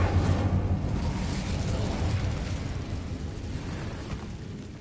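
A fire spell, Incendio, cast in a Harry Potter video game: a sustained roaring, crackling whoosh of flame that holds steady at moderate loudness for about five seconds.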